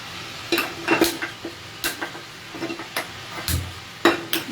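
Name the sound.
small pan being placed on the stove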